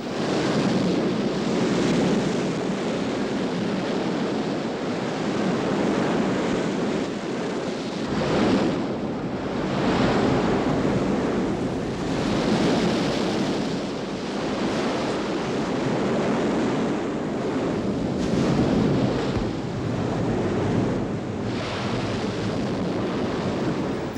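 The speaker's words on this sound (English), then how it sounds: "This morning, the sea is rough" A rough sea near a harbor bar crossing gives off a continuous loud surge of surf, swelling and easing in slow waves under constant wind noise, with no voices.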